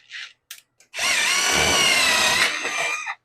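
A quick release power drill bores a pilot hole into a wall, starting with a few short clicks and bursts, then one steady whining run of about two seconds that slows and stops.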